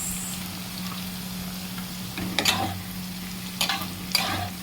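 Cashews and raisins fry in oil with whole garam masala in a pan, giving a low, steady sizzle with a constant hum underneath, broken by three short scraping stirs that stand out clearly.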